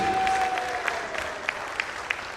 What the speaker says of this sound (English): may I request you all to put in some more energy into your applause